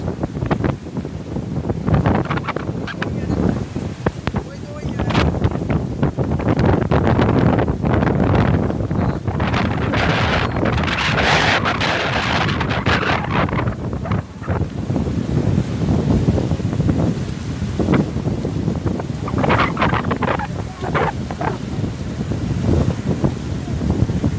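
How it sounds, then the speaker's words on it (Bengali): Strong wind sweeps over a village river during rain, roaring and buffeting the microphone in heavy, rumbling gusts throughout, with no speech. "অনেক অনেক বাতাস।"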